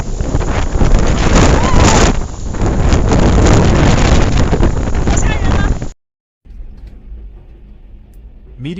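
Strong level 15 wind gusting through a city, a loud buffeting roar with heavy wind noise on the microphone for about six seconds, then a brief cutout and a quieter, hissing stretch.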